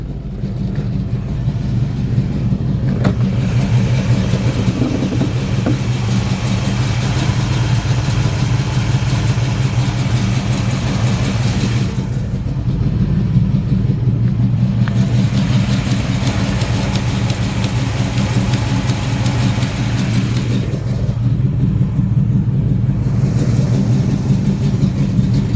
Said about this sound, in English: it's got a Chevy 350 V8. It runs strong.